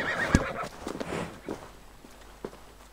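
In Assassin's Creed Valhalla, a horse gives a sharp close neigh, then a few scattered hoof thuds and footsteps follow over a quiet ambient background.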